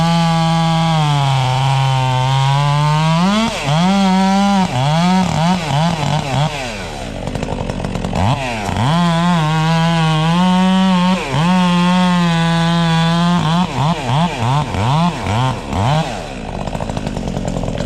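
A chainsaw throwing wide chips while cutting through a tree, loud and close, the engine bogging and revving in repeated cycles as the chain bites into the wood, with a brief easing off midway.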